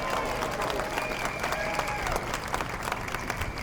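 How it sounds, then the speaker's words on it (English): An audience at a library-protest gathering in a county hall gives a speaker a round of applause, with dense steady clapping mixed with crowd noise and a few voices. "So can you give him a big round of applause,"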